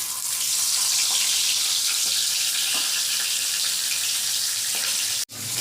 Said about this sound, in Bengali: ইলিশ মাছের মাথাটা নুন হলুদ মাখিয়ে রেখেছিলাম, ভেজে নিচ্ছি